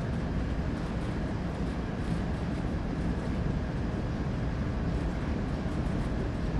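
A freight train coasts downhill on Cajon Pass in the Train Sim World 3 game, giving a steady, loud, broadband rumble of rolling wheels and rail noise that holds even throughout, with no talk.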